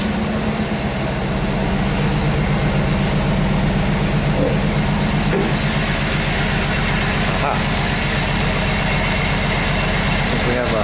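A 1993 Chevrolet Camaro Z28 Indy Pace Car with an untouched engine and original exhaust idles after a cold start, a loud, steady, close rumble under the open hood.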